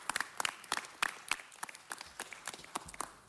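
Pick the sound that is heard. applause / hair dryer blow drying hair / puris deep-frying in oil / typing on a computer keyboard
applause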